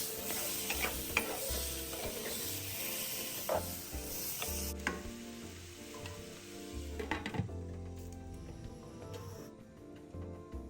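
Taro cake mixture loosened with water in a pan, stirred with soft scraping strokes and a faint sizzle, quiet and muffled beneath a steady tonal background.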